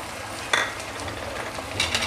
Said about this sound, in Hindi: इन सबको अच्छी तरह से मिक्स कर लेंगे और 5 मिनट तक का इसे फ्राई कर लेंगे।